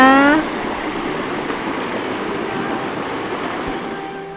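A stream swollen after a night of rain rushes steadily, a broad continuous watery roar heard close; a brief high tone sounds at the very start before the flowing water alone.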